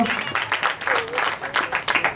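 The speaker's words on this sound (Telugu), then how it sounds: "గట్టిగా చప్పట్లు కొడుతూ" Clapping from an audience at a church outreach gathering, a dense, steady patter of many hands lasting the whole stretch, fairly loud and continuous, with a voice faintly mixed in.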